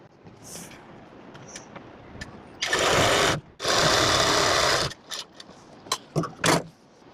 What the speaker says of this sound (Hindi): इस पर सिलाई लगा देंगे